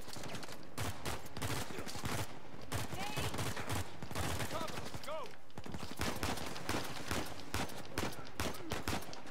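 Rapid bursts of gunfire from a weapon in Uncharted 4 crackle repeatedly through a cave battle, dense and evenly spaced, with scattered shouts and game ambience mixed underneath.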